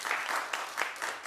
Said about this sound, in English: And clap if you're there for it.